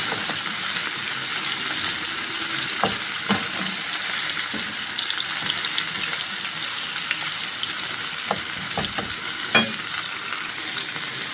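Steady sizzling of mutton and ginger frying in a hot pan for Peshawari namkeen gosht, a continuous crackle with occasional sharper pops and stirring clinks close by.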